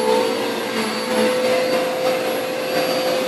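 A household vacuum cleaner running steadily with a high whining motor tone and airy rush, loud and close, unchanging for the whole stretch with no talking.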